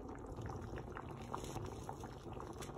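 Spinach chicken curry (palak chicken) bubbles and simmers in a pot, a soft continuous burble of small pops heard close and quiet with no voices.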